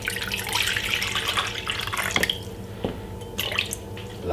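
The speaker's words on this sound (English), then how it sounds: "this is a medium-sized pot. All right, and we're going to put 2 cups of water" Two cups of water stream and splash into a medium-sized pot, filling steadily before cutting off, followed by a few drips and light clinks.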